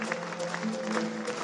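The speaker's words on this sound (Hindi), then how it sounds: "अपने इन सब भाइयों के लिए जोरदार तालियां बजाएं" A crowd at an anniversary celebration event in Thailand claps loudly and steadily in dense, continuous applause.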